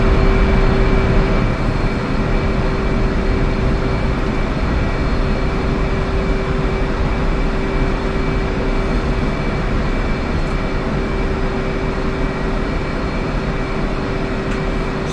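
A jet in DCS World rolls along the runway and taxis off toward the ramp after landing, its engine giving a loud, steady broadband roar with a constant whine held throughout, no voices over it.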